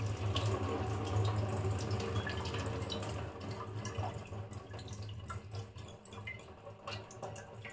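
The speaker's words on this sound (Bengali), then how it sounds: "একটুখানি পরিষ্কার জল দিয়ে আমি জাস্ট ছানাটা ধুয়ে নিলাম" Water running from a tap over chhana (cottage cheese) as it is rinsed: a steady rushing stream with splashing and dripping, fairly quiet and continuous throughout, with no talking.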